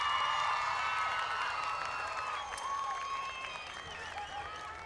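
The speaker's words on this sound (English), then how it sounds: "Would everyone please give a round of applause for this year's Homecoming King and Queen" An outdoor crowd in the stands at a high school football game applauds the Homecoming King and Queen nominees, with a steady wash of clapping mixed with whistles and cheering voices, moderately distant and fading slightly toward the end.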